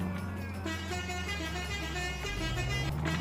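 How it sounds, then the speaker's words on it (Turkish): A loud, sustained Magirus M2000 bus horn blares steadily in Euro Truck Simulator 2, layered with the engine's low drone and other tonal game sounds. "Korna harbiden güzel ha."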